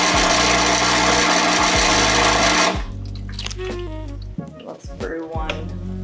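An espresso machine runs with a loud, steady pump hum and hiss for a few seconds, then drops to a quieter drone with gurgling and clinks, as a person talks.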